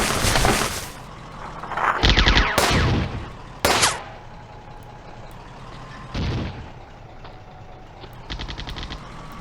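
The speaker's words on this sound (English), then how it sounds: "I see a lot of gunfire coming from over there." Gunfire in a WW2 real-time strategy game: sharp bursts of machine-gun fire and single shots crack out in loud clusters separated by quieter gaps, with a booming blast among them.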